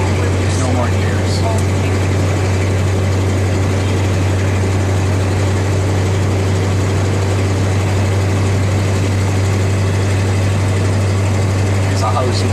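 A farm truck engine runs at a steady idle, its heavy low drone constant and close throughout, with faint voices over it.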